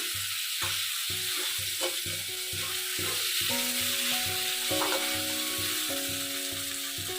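Spice paste fries with potatoes in a pan, a steady close sizzle under rhythmic stirring scrapes, with a faint tonal hum running through the middle.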